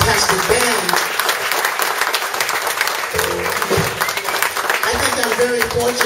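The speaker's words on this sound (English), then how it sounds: "How about a round of applause for the band," Audience at a café concert in Ronneby, Sweden, applauds the band: dense clapping throughout, mixed with lingering instrument tones and cheering, fairly loud and close.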